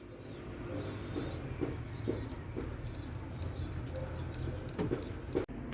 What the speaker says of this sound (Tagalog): Ito po mga kalapatids.